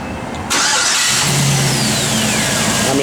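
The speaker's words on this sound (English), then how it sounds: "just turn the key, fire it up" A 1955 Chevrolet 3100 pickup truck engine cranks and fires up, then settles into a steady, loud idle with a low rumble close by, and no voices are heard.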